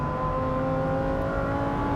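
A Lamborghini Huracan STO's naturally aspirated V10 holds a steady, loud, close drone with strong harmonic tones, running continuously out on a racing circuit.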